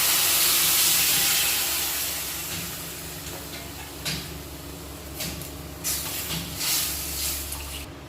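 Hot water poured into a hot pan of turmeric-spiced masala for a hilsa and elephant foot yam curry, giving a loud steady hiss that gradually fades, with soft clatters near the end.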